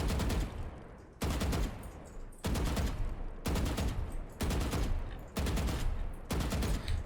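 Valorant gunfire comes in repeated rapid bursts, each a loud, close volley of a few shots, separated by brief gaps in a steady rhythm, with no talking over it.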